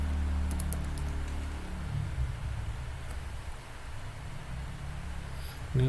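Someone types code on a computer keyboard, a quiet run of soft key taps over a steady background hiss with no talking.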